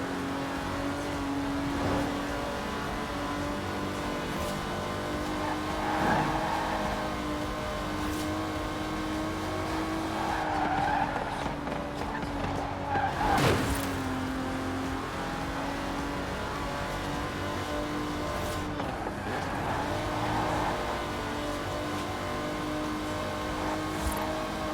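Aston Martin DB5 Vantage, a 1960s British grand tourer with side-draft carburetors, driven in Forza Horizon 4: a steady engine drone with shifting revs and a few brief tire skids, continuous and close, with no talking.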